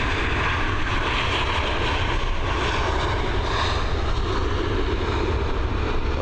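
Aircraft landing at Dublin Airport in blustery wind, a loud, steady broadband engine roar that fills the whole stretch without letup, close and continuous with no talk over it.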